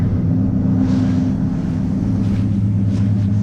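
A 1967 Oldsmobile Delta 88 V8 idles steadily with its exhaust leak fixed, a loud, even low rumble with no ticking or puffing, running alone without talk.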